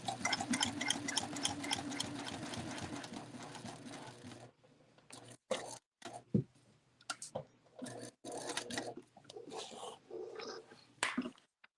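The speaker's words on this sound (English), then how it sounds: "I'm sewing my pocket on" A domestic sewing machine stitches a pocket onto a clamshell sling, a quiet, close, rapid ticking run for several seconds, followed by scattered short bursts and pauses.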